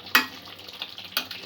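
Two short scraping stirs of a spoon through prawn and cauliflower korma gravy in a pan, with a soft sizzle between them, close and moderately quiet.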